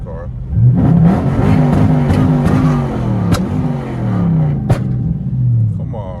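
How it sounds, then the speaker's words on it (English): A tuned Dodge Charger Scat Pack with the 392 engine revs in a steady, loud, rumbling drone, with a couple of sharp pops or clicks along the way and someone talking over it. "Listen to this car,"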